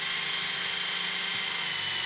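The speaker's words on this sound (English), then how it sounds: "Go ahead and drill us a new hole right down there." A power drill bores a new hole low down, giving a steady, moderately loud whine that runs unbroken for about two seconds.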